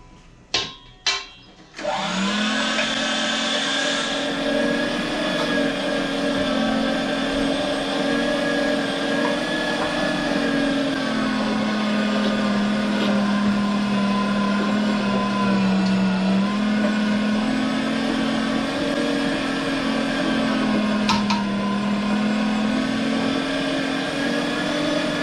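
Electric meat grinder grinding meat for homemade sausages and brats: a few quick knocks, then a loud, steady motor drone that runs continuously with a slight dip in pitch midway, with no talking.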